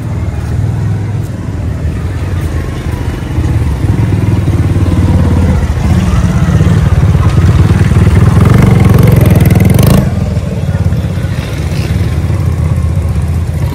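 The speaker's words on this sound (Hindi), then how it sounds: "बाइक लेकर आए हैं इनकी" A motorcycle engine runs steadily throughout at close range, a loud low rumble with some clatter and a brief surge near the middle, with no talking over it.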